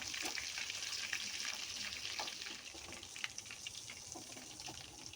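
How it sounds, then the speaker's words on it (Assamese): Pieces of chicken frying in a pan of oil, a steady bright sizzle lasting throughout with small pops and crackles, fairly quiet and close, no talking. "এতিয়া মোৰ গোটেই চিকেনখিনি কমপ্লিট ফ্ৰাই হৈ গ'ল।"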